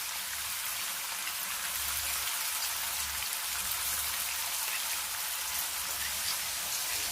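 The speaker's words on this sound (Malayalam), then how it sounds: "അതിലേക്ക് മീനിട്ട് വറുത്തെടുക്കാം." Pieces of fish fry in sesame oil over a medium flame, giving a continuous bright, rain-like spattering sizzle that stays level and nearby, with no voices over it.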